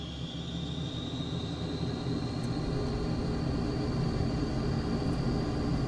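A jet engine spools up to full throttle for takeoff in Microsoft Flight Simulator, a steady loud roar with a rising whine that climbs in pitch throughout, alone with no talking.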